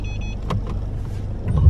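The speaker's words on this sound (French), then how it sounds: "La voiture fait le créneau tout seul." A car steering itself into a parallel parking space, its low engine rumble steady throughout, with brief motor whirs and soft clicks rising slightly near the end.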